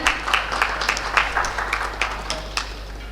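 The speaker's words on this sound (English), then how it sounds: "Can we please have a big round of applause, everyone?" A modest audience claps at a railway and transportation expo session during a token presentation, with distinct, fairly sparse claps over a steady low electrical hum in a hall.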